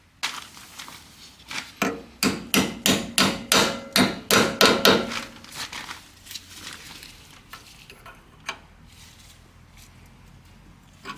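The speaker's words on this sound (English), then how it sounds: "I just need to tap that with a little small hammer to get in" Small hammer tapping a brake hose fitting on a Subaru Sambar, about a dozen sharp metallic knocks in a quick steady rhythm that fade off into a few scattered lighter taps, close and loud with no talk.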